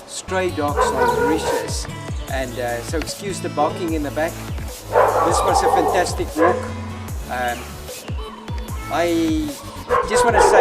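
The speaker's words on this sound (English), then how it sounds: "there's a couple of dogs here." Stray dogs in Mauritius bark, yip and whimper repeatedly in the background near Black River Gorges National Park, sharp irregular bursts heard under someone speaking.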